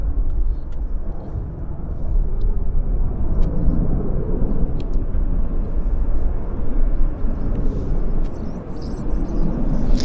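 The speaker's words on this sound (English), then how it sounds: "this is Air Canada 25. It's a it's a 7879 Dreamliner heading to Shanghai's famous Pudong Airport" An Air Canada Boeing 787-9 Dreamliner at Vancouver airport gives a steady, broad jet rumble that holds at a constant level throughout, with faint background voices now and then.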